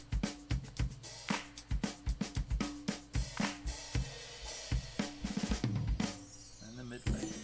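Shaker supporting real claps and drums in a song mix, its hissy rhythmic shuffle running continuously beneath punchy kick and snare hits and a low bass line, a full, loud, dense groove.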